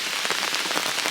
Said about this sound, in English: There's the heavy rain again.